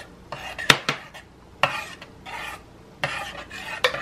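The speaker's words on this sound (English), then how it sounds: "I'm stirring this all together" Barbecue sauce with apple cider vinegar stirred in a cooking pot, a spoon scraping and clinking against the pot in short bursts with sharper knocks, close and moderately quiet.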